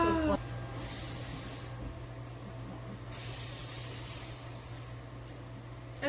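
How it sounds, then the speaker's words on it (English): Cooking spray is sprayed onto a baking dish in a home kitchen, producing two separate soft hissing bursts close by over a quiet background. "Now I'm going to spray my dish."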